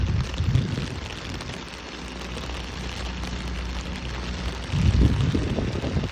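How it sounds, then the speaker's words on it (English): Steady rain falls outdoors beside a locomotive, a dense broadband patter with a low rumble underneath that swells near the start and again toward the end. "It is raining now, so I am kind of getting wet"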